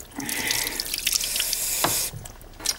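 Water runs steadily from a tap into a sink during handwashing, a close, continuous rush with a few brief drips and splashes near the end, heard alone with no talking.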